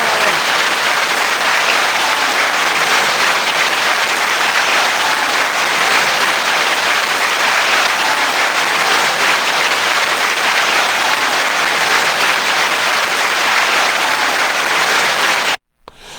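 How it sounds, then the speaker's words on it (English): Loud, sustained round of applause for a girl whose team won first place in a basketball tournament, dense and steady for about fifteen seconds before cutting off abruptly. "Let's give Carter a big round of applause."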